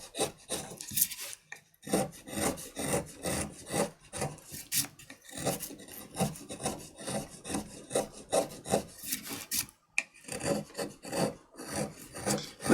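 A chisel carves a wooden printmaking block in repeated short scraping strokes with a rough, rasping rhythm. It is close and moderately quiet, with brief pauses between bursts.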